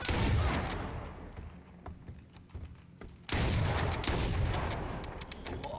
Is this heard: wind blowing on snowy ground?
no